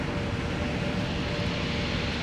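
Airbus A321neo aircraft at an airport, with a steady, loud engine roar sustained throughout and a broad rumble that holds without pause.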